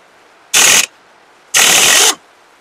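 Loose clutch bell on a Yamaha Saluto motorcycle: two separate bursts of loud metallic rattling, each about half a second long, with a pause between them and no talk.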